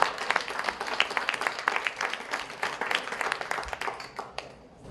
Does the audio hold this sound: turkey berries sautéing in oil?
no